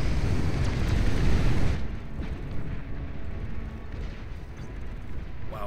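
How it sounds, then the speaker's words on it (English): Massed artillery units in the strategy game Beyond All Reason fire together, a heavy rumbling barrage of deep booms that swells loudly at first and then settles into a lower, sustained roll of distant blasts. "Watching those all fire in unison is so satisfying."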